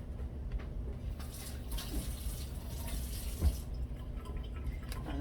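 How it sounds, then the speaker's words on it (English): Water pours steadily into a large blender holding pepper and tomatoes for several seconds, a soft continuous splashing with a few faint knocks. "And I'll just add a little bit of water like this."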